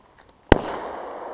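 One sharp, loud bang from a bursting PET plastic bottle bomb, followed by a brief fading rush of noise.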